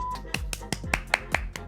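Rapid run of about seven sharp hand claps welcoming a podcast guest, evenly spaced and fairly close, with a low hum underneath.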